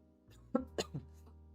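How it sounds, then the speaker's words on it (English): A few short, soft coughs in quick succession, close and fairly quiet against a low steady hum. "Excuse me, I need to cough."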